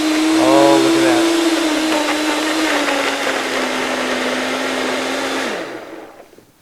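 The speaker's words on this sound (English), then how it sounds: "Put this on the blender for about a minute or so" Blender whirs at high speed while blending a gnocchi sauce with olive oil, a loud steady motor whine that dips slightly in pitch and then winds down at the end.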